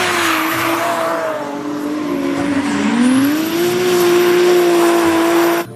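A toy race car gives off a loud, continuous electronic engine whine that dips and then climbs back up midway, running steadily for about six seconds with no talking.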